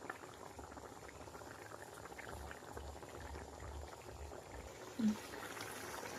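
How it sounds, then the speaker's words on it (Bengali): Chicken ghugni at a steady rolling boil in a pot, a continuous soft bubbling and simmering texture with one brief louder blip near the end, no talking. "বন্ধুরা এবার জলটা ফুটে গেছে ভালো করে"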